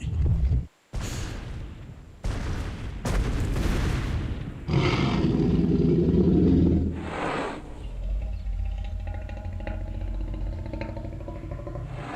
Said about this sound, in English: And hear that roar.